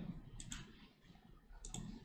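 Someone types on an unfamiliar computer keyboard in a training classroom, producing two short clusters of faint clicking keystrokes separated by a quiet pause, with no talking.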